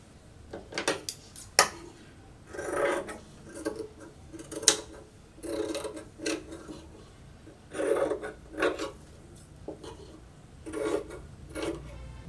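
Scissors snip through cloth for a baby's A-line frock in a series of short crisp cuts and rasping slides, spaced irregularly across the table, fairly close and moderately quiet.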